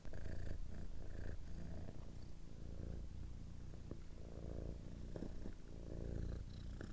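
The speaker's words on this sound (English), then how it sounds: "And now a word from today's kitty cat." A cat purrs close up in a steady, rumbling rhythm that continues for the whole stretch, with no voices over it.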